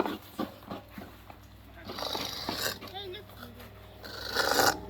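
A coconut is scraped by hand with a manual scraper outdoors, making a run of rhythmic rasping strokes near the start, followed by rougher scraping mixed with a voice talking.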